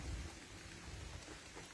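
Steady rain pours down on a hiking trail at Tai Tam Reservoir, Hong Kong, with a low rumble of thunder underneath, a constant hiss with no voices.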